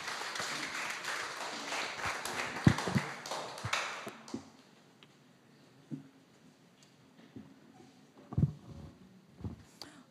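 Scattered applause from a webinar audience, a burst of clapping for the first four seconds that thins to a few isolated claps and taps.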